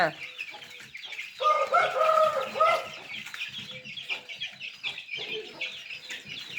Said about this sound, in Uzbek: Mana dakkarim xo'roz jo'jalar